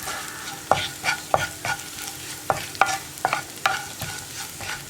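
Turmeric powder being stirred in a little hot oil in a pan: a series of sharp, close spatula scrapes roughly every half second over a soft, steady background sizzle, with no voices.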